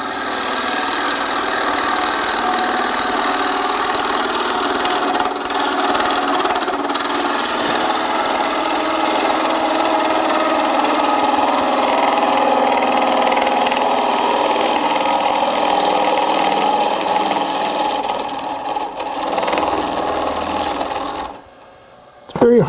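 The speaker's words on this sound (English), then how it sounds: "Now I'll go to the bowl gouge and complete that cut." A wood lathe spins while a bowl gouge cuts a natural edge bowl, producing a continuous loud whirring drone with scraping texture that cuts out abruptly near the end.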